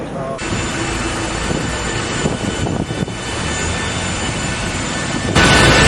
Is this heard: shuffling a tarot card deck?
no